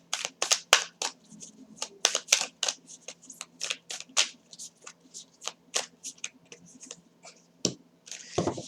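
Tarot cards being shuffled and pulled, a long run of crisp, close riffling snaps and flicks in irregular bursts, ending with a card drawn and slid across a surface.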